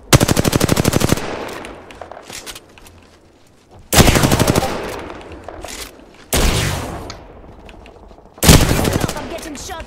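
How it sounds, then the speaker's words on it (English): Automatic weapon fire in the video game Apex Legends, four loud rapid bursts of shots, each followed by a quieter stretch of scattered game sounds and faint talk. "I'm getting shot at."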